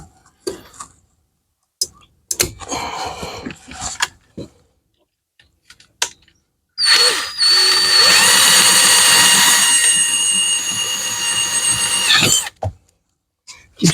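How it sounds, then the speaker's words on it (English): Scattered clicks and short tool bursts lead into a loud power drill running steadily for several seconds, whining and grinding before it stops. "We're going to start by just trying to drill it open."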